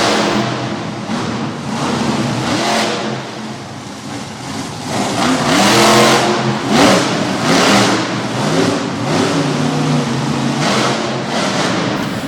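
Monster truck engine at an arena show in Harrisburg, Pennsylvania, revving hard and repeatedly while spinning donuts on the dirt floor, loud and rhythmic with surging bursts over crowd and arena noise.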